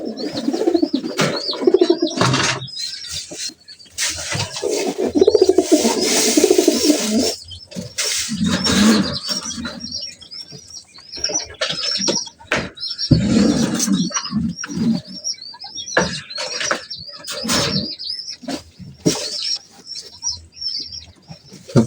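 Domestic pigeons coo in a rhythmic, repeated pattern close by, with occasional wing flaps, chirps and rustling movements around their coop.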